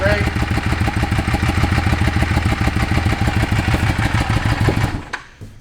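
A 2008 Yamaha V-Star 650 motorcycle idles close by with a loud, steady, throbbing engine rumble that runs evenly for several seconds, then cuts off abruptly into near silence.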